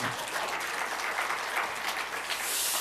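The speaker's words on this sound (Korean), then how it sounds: "박수 한번 해주세요" A church congregation bursts into applause during a Sunday afternoon worship service. The dense, continuous clapping from a roomful of people carries steadily throughout with no talking over it.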